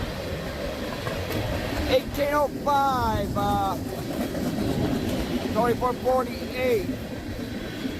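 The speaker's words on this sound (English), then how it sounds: "here comes another train." A CSX freight train rumbles past on a windy day, a steady low roar of rail cars with squealing wheel tones rising and falling, while someone talks over it reading out car numbers.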